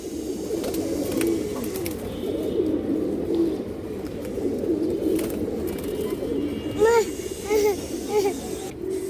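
A pigeon coos close by in several soft, repeated rolling calls, heard over a steady murmur of people talking in the background.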